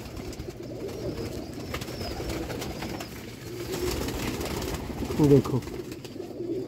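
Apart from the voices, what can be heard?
pigeons cooing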